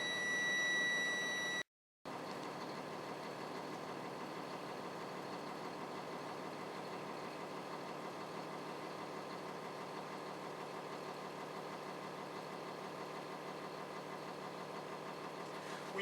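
A truck engine idles steadily for the whole stretch while its air brake system builds pressure toward 85 psi, a continuous mid-range drone with a faint whine on top and a brief gap near the start.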